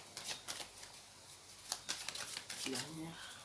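Tarot cards shuffled and drawn in a reading, with repeated crisp riffling bursts and card snaps up close while someone speaks briefly over them.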